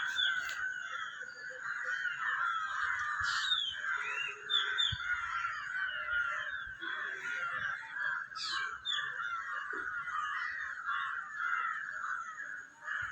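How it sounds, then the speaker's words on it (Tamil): Several crows caw repeatedly outdoors, harsh calls coming in bursts over a steady high insect-like drone, moderately near and clear. "காக்காவுக்கு சாப்பாடு வச்சா கூட காக்கான்னு கத்தி எல்லா காக்காவும் கூட்டு தான் சாப்பிடுங்க"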